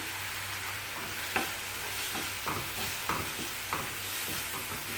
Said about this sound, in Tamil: இதுவும் நல்லா பச்சை வாசனை போக வதங்கணும். நல்லா எண்ணெய் பிரிஞ்சு வர்ற அளவு வதக்கணும்.